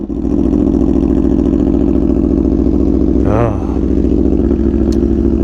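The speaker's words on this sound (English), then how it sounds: "a cold start on a 2017 Aprilia Tuono V4 1100 factory with an SC Project CRT exhaust" A 2017 Aprilia Tuono V4 1100 Factory with an SC Project CRT exhaust idles loudly and steadily close by on a cold start, with a brief blip of revs partway through.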